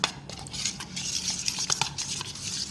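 A spoon scrapes and clinks around a bowl, mixing a chicken tikka spice marinade with chaat masala in quick, close, uneven strokes, no voices.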